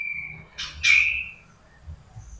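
A roughly one-month-old oriental magpie-robin gives a thin whistle and a couple of sharp, quick chirps, up close against a quiet background.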